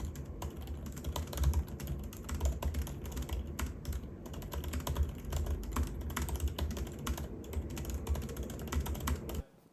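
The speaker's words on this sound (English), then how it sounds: "let me go ahead and do a quick typing test" Fast, continuous clacking of a MacBook M3 Pro keyboard, close and steady for several seconds, with no talk over it.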